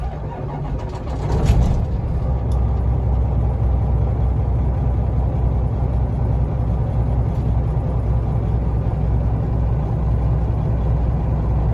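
A Detroit diesel in a 2015 Peterbilt 389 glider truck cranks over and catches with a short burst, then settles into a steady, close, loud low rumble at idle that holds evenly to the end.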